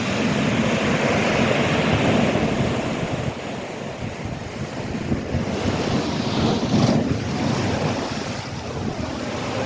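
Heavy full-moon high-tide waves crash and churn near a flooded seaside road, a dense roar of surf mixed with strong wind noise on the microphone, loud and unbroken throughout with no voices.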